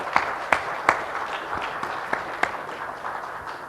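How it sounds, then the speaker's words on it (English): An audience applauds a speaker at a CFA Society India career guide event, with a few sharp, distinct claps standing out over a steady, moderate patter of hand clapping that continues throughout. "big round of applause, ladies and gentlemen."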